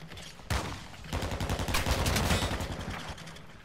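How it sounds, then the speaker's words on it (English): Sustained gunfire in a military shooter video game, a dense burst of overlapping automatic shots that swells after a brief opening volley and keeps rattling loudly for several seconds. "You are taking effective fire."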